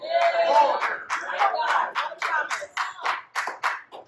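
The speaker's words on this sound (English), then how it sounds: "I should have heard more than three claps." A church congregation gives a short, sparse round of hand claps, about a dozen uneven claps that thin out over a few seconds, close and fairly loud.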